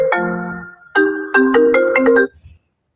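A phone ringtone plays through a connected MacBook, loud and close: a melodic chime phrase, a short pause, then a second run of bright notes that stops abruptly.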